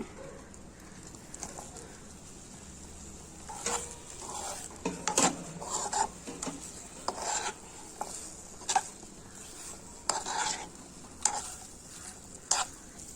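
Cooked squid goes into a pan for stuffed squid and is stirred, with intermittent clinks and scrapes of a utensil against the pan over a faint background sizzle, close and moderately quiet.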